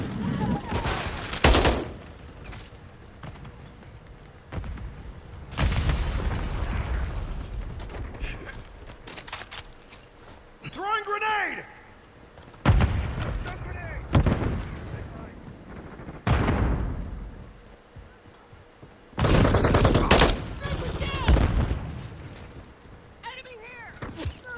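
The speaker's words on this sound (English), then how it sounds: "Taking effective fire!" Video game firefight with repeated bursts of automatic gunfire and heavy shots, loud and close, coming in waves across the stretch while players shout over it.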